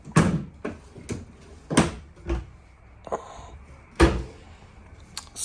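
A kitchen drawer in a 2025 Grand Design Reflection 322FKTS travel trailer is pulled open and pushed shut several times, giving sharp, close knocks and slides spaced irregularly over a quiet room.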